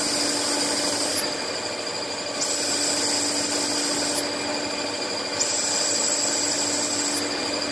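A CNC machine cuts an AR-15 barrel tenon with a continuous high-pitched machining whine and rasp. The pitch changes in steps every second or two as the passes shift, and no one speaks.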